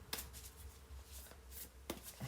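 A deck of tarot cards is shuffled up close in a quiet room, a few quick riffling bursts and soft papery flicks separated by brief pauses.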